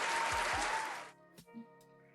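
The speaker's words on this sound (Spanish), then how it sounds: "con mucho agrado, con mucha alegría y con un gran aplauso" Brief applause welcomes a guest onto a martial arts podcast, a short burst of clapping about a second long that stops abruptly, leaving a faint tone and a small knock.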